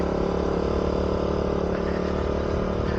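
Motorcycle with a worn clutch plate near Nagarkot, with a loud close engine drone that holds steady and rumbles without a break.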